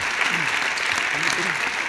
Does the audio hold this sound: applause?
yes